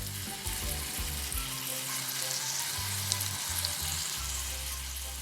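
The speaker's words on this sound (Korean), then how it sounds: "이제 뚜껑을 덮고 약불로 하고 한 7, 8분 구워 보겠습니다." Meatballs fry in a covered pan over low heat, giving a steady, even sizzle that holds throughout, with a low hum underneath and no voices.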